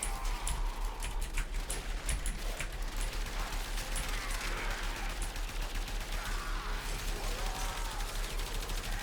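Rapid, continuous gunfire from the Braton Prime Incarnon rifle rattles through a Warframe firefight, dense bursts of shots with mechanical clatter and faint effects layered underneath.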